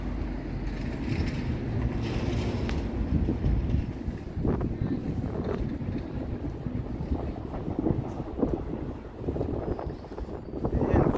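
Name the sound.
wind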